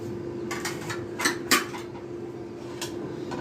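Whole garam masala spices dropped into a pan for beef rezala, with a low steady hum underneath and several sharp metallic clinks and taps of utensils against the cookware.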